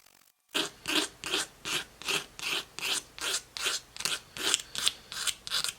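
Small handheld blade scraping dried glue off a model kit, a steady series of about a dozen short rasping strokes in even rhythm, close and fairly loud with no talk.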